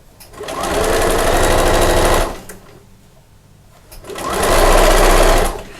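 A sewing machine stitches a seam with a 3/8 inch allowance on a lining for a machine cover, running in two loud, close, steady bursts separated by a quiet pause.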